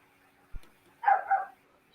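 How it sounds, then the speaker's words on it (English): Small dogs barking indoors at home; a soft thump, then a quick pair of barks close by, brief and moderately loud, alone without talk. "I'm just muted because the dogs are barking."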